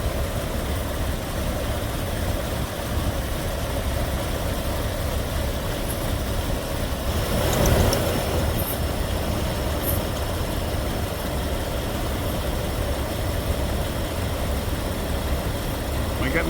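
A Jeep Grand Cherokee 4.0 engine with a suspected blown head gasket idles steadily and close by, a continuous low rumble with a brief swell near the middle and no talk.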